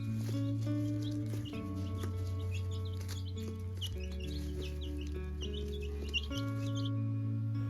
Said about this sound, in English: we went ahead and bought 4 more chicks